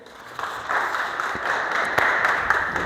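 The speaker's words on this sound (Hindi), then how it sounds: "जोरदार तालियां साहब के लिए।" Applause from a crowd gathered for a workplace Safety Day program, a moderate continuous patter of clapping heard from some distance in a reverberant space.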